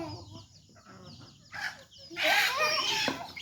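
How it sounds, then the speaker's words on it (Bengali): A farmyard chicken being grabbed by hand lets out soft clucks, then a loud, agitated burst of squawking near the end, with a voice briefly in the background. "মুরগি ধরা এই যে সহজ"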